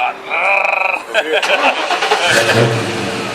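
Ford Mustang Foxbody from 1993 being driven, engine revving and dropping in pitch as gears are shifted, loud and close inside the car with someone talking over it.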